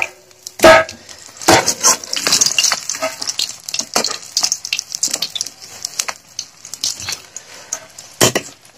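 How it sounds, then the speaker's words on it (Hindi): Fish frying over a wood-fired chulha stove, with crackling sizzle, sharp metallic clatters of utensils and stirring scrapes, loud and close, with no voices. "मछली फ्राई करना हो गया, देखिए चूल्हा से ही करना पड़ा"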